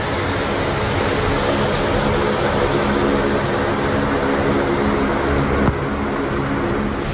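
Fighter jets flying low over a runway built on the Purvanchal Expressway during a touch-and-go air show, giving a loud, steady engine roar that fills the whole stretch with little change.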